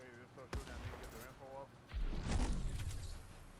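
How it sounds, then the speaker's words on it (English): Gunfire pops in the video game Fortnite, a few sharp shots and a heavier rumbling burst near the end, heard under someone talking. "Sounds like shooting's going on behind me."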